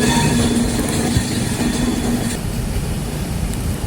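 Train running on rails toward Katni South station in India: a loud, steady rumble with dense wheel clatter, heard up close with no voices.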